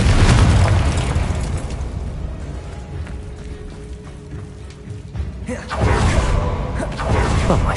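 Booming blasts from the Confringo fire spell in the video game Hogwarts Legacy, a heavy explosion at the start fading to rumble, then a second loud burst a few seconds later.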